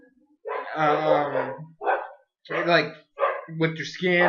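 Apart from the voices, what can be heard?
dog barking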